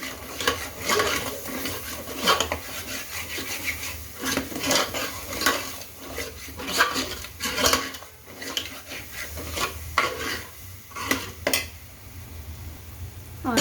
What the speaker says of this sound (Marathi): सर्व मसाले छान असे परतून घ्यायचे